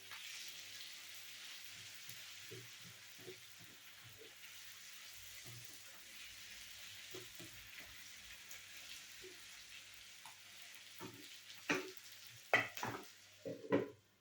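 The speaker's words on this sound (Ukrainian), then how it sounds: "ось так я його перемішую" Eggplant and pepper vegetable ragout is stirred in a pan, with a soft steady sizzle throughout and scattered scraping strokes that grow louder and sharper near the end.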